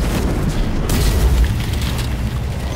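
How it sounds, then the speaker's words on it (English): A grenade goes off in the video game Strange Brigade on Xbox, a loud, roaring blast whose dense rumble fills the whole clip with no voices over it. "Look out, chaps! Grenade!"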